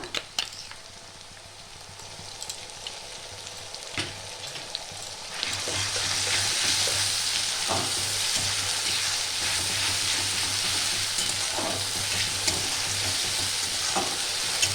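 Onion paste hits hot oil already tinted with red chili powder for chicken curry. A low sizzle swells into a loud, dense crackling hiss partway through, with occasional stirring knocks close by.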